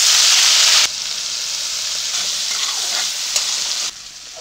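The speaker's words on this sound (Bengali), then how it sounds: "তেল গরম হয়ে গেছে, চিংড়ি মাছগুলো ভেজে নেব।" Small shrimps fry in hot mustard oil in a kadai, giving a loud, dense sizzle that starts strongest, drops a little, and then crackles on steadily with small pops.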